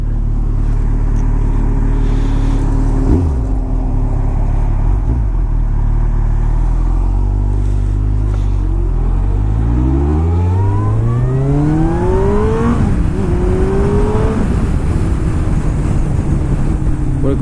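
A shaft-drive sport touring motorcycle on a test ride holds a steady drone, then its engine note climbs through repeated rising sweeps as the rider accelerates and shifts up, loud and close with wind rush throughout.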